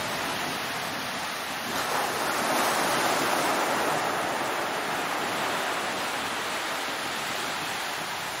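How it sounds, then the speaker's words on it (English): Surf rolling onto a long stretch of beach at Cahuita National Park, a broad continuous wash of waves that swells slightly midway, heard alone without voices. "Beautiful long stretch of a beach."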